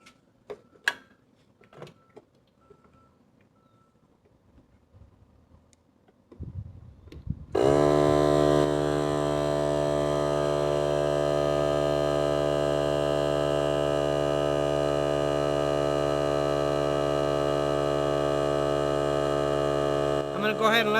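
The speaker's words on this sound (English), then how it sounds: "now we're going to go ahead and turn on the AC compressor to see what happens when we run that" An AC compressor powered by an OUPES 595Wh LiFePO4 portable power station kicks on after several seconds of quiet handling noises, then drones with a loud, steady, strongly tonal hum until the end.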